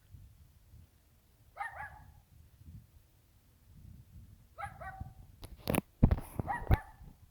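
A dog barks in short, sharp bursts while fighting off a cat indoors, two separate volleys of yips and barks with scuffling thumps between, fairly close and alone without speech.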